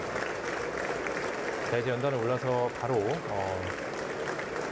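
Members of the US Congress applaud the Korean president in the chamber, a continuous wash of clapping from a large crowd that runs underneath someone speaking in the foreground.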